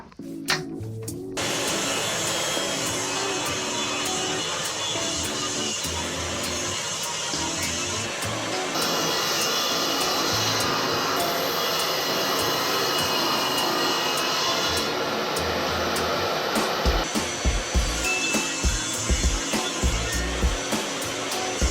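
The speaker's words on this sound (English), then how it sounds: "Now let's fire up the table saw and start cutting those edges off." A table saw spins up and cuts through laminated wood slats, a loud sustained high whine running almost the whole time, shifting in pitch as the blade bites, with some clatter toward the end.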